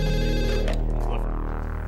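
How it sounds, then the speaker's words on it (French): An office telephone rings in a steady electronic tone, one continuous ring filling the moment with a sustained buzzing pitch, close and fairly loud with no voices. "l'agent Clifford reçoit un coup de téléphone ahurissant"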